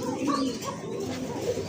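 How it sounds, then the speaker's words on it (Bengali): Pigeons being sold at a market, including Lahori and other large fancy breeds, coo in soft, low, repeated calls close by. The cooing sits over a continuous background hum. "এই যে দেখেন কবুতরগুলো দেখে নিন ভালো মতো"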